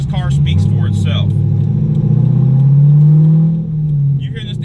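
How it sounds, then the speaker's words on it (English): A C5 Corvette Z06 with a 600 hp engine downshifts, letting out a deep, loud engine drone whose pitch rises and falls. Someone talks over the start and end of it. "Listen to this thing downshift though. This car sounds amazing."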